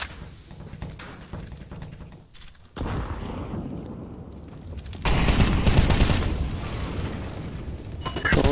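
Gunfire in Counter-Strike: Global Offensive, with bursts of rapid shots and heavy booming reports building louder toward the end, mixed with game ambience and occasional voices.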